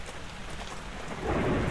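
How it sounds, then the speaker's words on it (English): Hail pelts a house during a storm, a dense rushing roar of impacts that swells louder toward the end, with a low rumble underneath. "there is baseball-sized hail"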